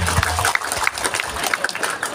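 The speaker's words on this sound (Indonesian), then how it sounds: "Tepuk tangan." Crowd applause at a village halal bihalal gathering in Argopeni, Kebumen, a dense continuous clapping with a few sharper individual claps standing out throughout.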